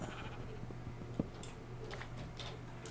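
Sheep bleating in the Minecraft video game, short bleats over a faint steady background hum, with no talking.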